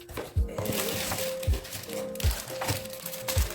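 Plastic packaging crinkles and crackles up close in repeated bursts as makeup brushes are unwrapped, with someone talking throughout.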